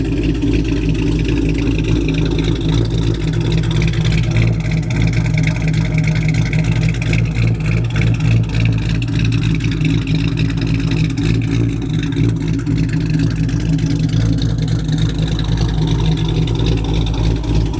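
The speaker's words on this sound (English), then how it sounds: "Very good sounding car with the Tomahawk cam" A 5.7 HEMI car engine fitted with a Tomahawk cam runs steadily and loudly up close, its deep, throaty rumble holding with no pauses and no talk over it.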